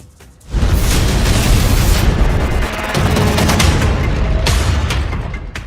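Explosions from bombing in countries allied with America, captured in news footage: a loud, sustained roar of blasts and rumbling booms that starts after a brief quiet moment and continues without a break.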